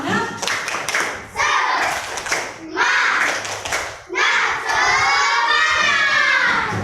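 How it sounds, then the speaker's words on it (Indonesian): Schoolchildren in a classroom clap together in a rhythmic, energetic chant, with bursts of hand claps and shouted voices repeating in quick sections, loud and close. "mari kita sama-sama tepuk semangat dulu yuk"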